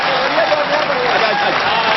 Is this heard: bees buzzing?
no